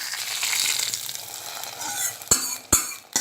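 Mustard seeds, curry leaves and dried chillies sizzle in a hot tempering pan, a steady crackling hiss with a couple of sharp metallic stirring knocks near the end.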